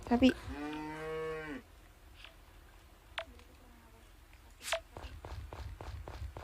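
A single long, loud cow moo from the video game Story of Seasons: Friends of Mineral Town opens, then quieter clicks and repeated soft stepping sounds follow.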